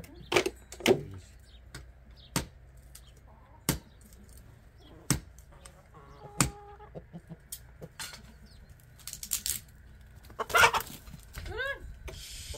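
Roosters cluck now and then, scattered among sharp knocks and clicks in a quiet outdoor setting.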